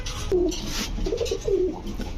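Pigeons at a breeding farm for fancy breeds such as King, Lahori, Kokka and Lakkha coo softly and close by, a few short throaty calls in quick succession over a quiet background.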